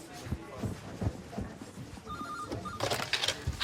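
A telephone rings in a TV comedy scene from Channel 4's Damned, with a bright electronic trill cutting in near the end over voices talking and light background movement.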